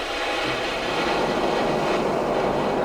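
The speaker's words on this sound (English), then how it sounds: "Then we're gonna hear the train in the background." A train passes in the background of a gravel scene, added as a sound effect. It comes through as a steady, low, distant rumble and hum that builds a little and holds for the whole stretch, with no speech.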